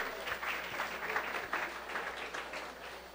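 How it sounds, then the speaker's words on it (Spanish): An audience claps in a classroom-style talk about startups, a dense continuous round of applause that carries steadily to the end. "Un aplauso para ustedes, se ve que estudiaron."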